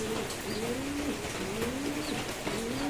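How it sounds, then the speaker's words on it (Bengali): Doves, including a white one, kept in a pigeon cage in a home loft coo in a steady repeating pattern, each low rolling call rising and falling several times, close and fairly quiet. "ঘুঘু পাখিগুলো এখানে আছে।"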